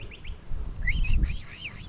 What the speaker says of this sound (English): See, we're up here with the birds. You hear them?